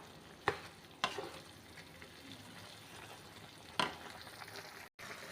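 Ginger pickle being stirred in a pan while frying, with a soft continuous sizzle and a few sharp spoon knocks spaced a second or more apart, fairly quiet.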